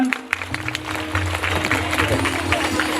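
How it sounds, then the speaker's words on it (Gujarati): A crowd at a Lokpal Mahadev temple consecration festival in Sanvav breaks into dense, loud applause, with many hands clapping close by and a voice over the PA underneath. "એક વખત જોરદાર તાળીઓથી અભિનંદન"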